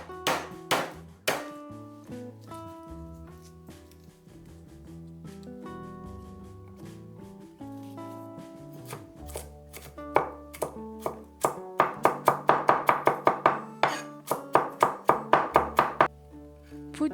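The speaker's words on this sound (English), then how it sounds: "Chop 8 garlic cloves." A knife chops eight garlic cloves on a board under background music, scattered cuts at first, then a quick, steady run of sharp taps near the end.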